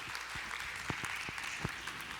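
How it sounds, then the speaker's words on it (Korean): A church congregation claps during a children's Sunday service, steady, moderately distant applause with a few sharper individual claps standing out. "큰 박수로 한번 축복하겠습니다"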